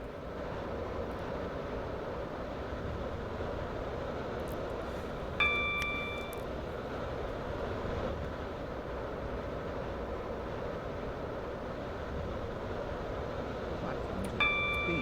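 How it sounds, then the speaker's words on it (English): In the Roblox game Stepford County Railway, a train approaches a station with a steady low rumble, broken twice by short tonal chimes. "This train is now approaching Newry."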